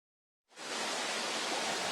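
Steady broadband rush of falling water at a waterfall and stream in Donneko valley on Jeju, starting abruptly after a moment of silence and holding loud and even throughout, with no talk.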